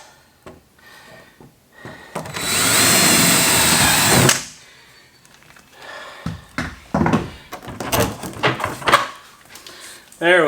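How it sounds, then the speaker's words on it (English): A power drill bores holes through the wall of a boat cabin in one loud, steady burst of about two seconds, followed by clattering handling noises and a person talking. "I am going to drill these holes through here, so then I can drill them through the wall of my cabin"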